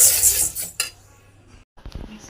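Half a kilo of whole black gram (urad dal) dry-roasting in a pan, with a spoon scraping and clinking against the metal over a soft rustle of the grains, then a brief pause and a few more sharp clinks.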